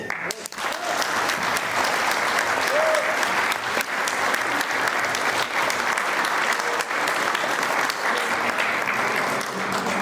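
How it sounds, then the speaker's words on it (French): A crowd at an exhibition opening in Les Gets applauds loudly and steadily for about ten seconds, the dense clapping close and continuous from start to finish. "Je souhaiterais qu'on l'applaudisse très fort."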